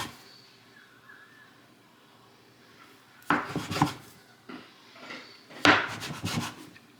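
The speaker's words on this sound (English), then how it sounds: "I take a pan, I line it with aluminum foil, and then I do my best to cut these into 4 even sections." A regular kitchen knife cuts dough into four sections in a pan lined with aluminum foil, giving two short bursts of scraping and crinkling foil after a quiet stretch, close and moderately loud.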